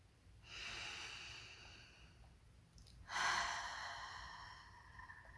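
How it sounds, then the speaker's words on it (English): A deep, calming breath close to the microphone: a soft airy inhale, a brief pause, then a stronger, rushing exhale fading away in a quiet room. "Take a deep, calming breath"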